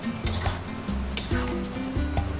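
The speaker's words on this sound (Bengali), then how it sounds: "কুমড়োটার জন্য আর কিছু সময় ধরে আমি একটু নেড়ে চেড়ে ভেজে নেব" Pumpkin and potato curry stir-fried in a pan, a steady close sizzle broken by a few sharp scrapes and clinks of the spatula against the pan, with no talking.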